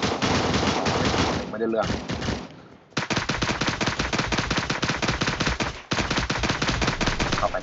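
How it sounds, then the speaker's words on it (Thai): Rapid automatic gunfire in the video game Cyber Hunter rattles in dense bursts with a short pause in the middle, loud and close, while a voice speaks briefly. "ใครยิงมันหนักหนักวะ เห็นแต่กระสุน"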